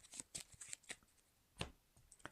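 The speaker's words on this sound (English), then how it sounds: "We'll shuffle the deck." A deck of playing cards is shuffled on a table in a series of quick papery riffles and snaps, several short bursts with a louder one near the end, fairly close and with no talking.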